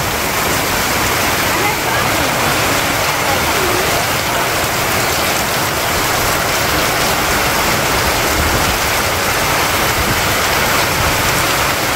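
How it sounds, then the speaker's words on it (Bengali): Heavy rain pours down in a dense, loud, unbroken hiss, like a waterfall, steady for the whole stretch with no voices standing out. "দেন তো কেমন বৃষ্টি নামছে"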